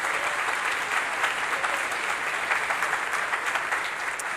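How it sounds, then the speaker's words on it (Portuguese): A church congregation breaks into sustained applause during a sermon, a dense, steady wash of many hands clapping together at even loudness throughout. "pode aplaudir o Senhor Jesus"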